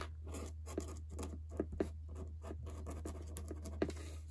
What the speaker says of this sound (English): I'm just gonna write book advent.